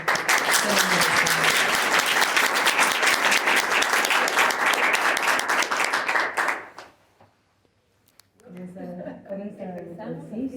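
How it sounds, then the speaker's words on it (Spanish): An audience at a university radio conference bursts into loud, dense applause lasting about seven seconds, then falls silent, after which a voice begins speaking. "Primero les vamos a aplaudir"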